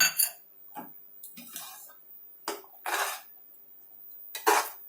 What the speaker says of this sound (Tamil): ஆட் பண்ணிவிட்டு நம்ம இப்போ இதை நல்லா கலரணும்